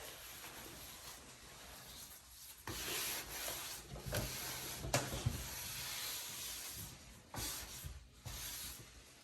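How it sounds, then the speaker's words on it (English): A sponge rubs dust and hair off a bathroom surface, giving steady close scraping and wiping strokes in uneven bursts, with no one talking. "So it's like I'm dusting this before I come through with the cleaner and cloth."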